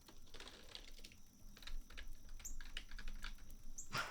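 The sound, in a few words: typing on a gamer computer keyboard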